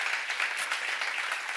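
A seminar audience claps together in a short, dense burst of steady applause that holds at an even level throughout.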